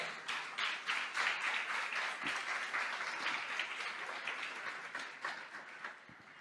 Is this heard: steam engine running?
no